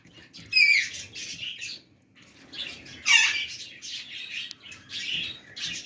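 Diamond pied doves in a home aviary give soft calls with a few sharper squawks and chirps, several bursts spread across the stretch at moderate loudness with no talk.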